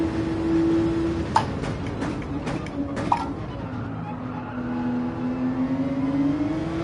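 Porsche 911 racing around Autopolis in Gran Turismo 7, its engine droning steadily with pitch shifts as it accelerates and shifts, a couple of sharp clicks partway through, with a voice talking over it.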